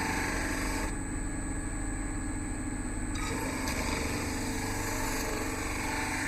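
A variable speed reversing grinder motor hums steadily at a knife blade grinding setup, a continuous whirring drone that shifts in tone partway through, with no talking.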